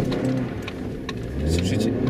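Honda CR-V pulling away at full throttle on snow with ASR traction control on, engine revving steadily and rising slightly toward the end, close and continuous.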